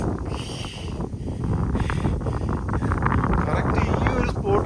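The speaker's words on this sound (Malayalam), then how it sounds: "ഈ ഒരു സ്പോട്ടിലെത്തിയപ്പോൾ നല്ല കാറ്റടിച്ച് കയറി വരുന്നുണ്ട്" Strong wind rushing through a mountain gap on the Periyamala trek, buffeting the microphone in a loud continuous roar, with people talking over it.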